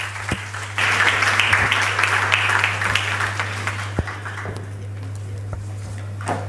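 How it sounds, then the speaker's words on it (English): Audience clapping at an international conference on gender equality, a burst of many hands starting abruptly, sustained for a few seconds then tapering, over a steady low electrical hum. "Another round of applause for her and all the other speakers before her"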